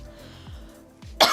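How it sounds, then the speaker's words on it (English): A person coughs, with a soft throat-clearing rumble, then one sharp, loud burst of cough at the end. "I'm gonna cough"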